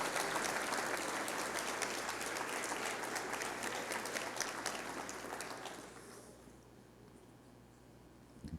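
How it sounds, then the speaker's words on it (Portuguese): A church congregation at a prayer service claps together in a dense, steady burst of applause that fills the room, then tapers off and fades out in the last couple of seconds. "Vamos aplaudir ao Senhor mais uma vez."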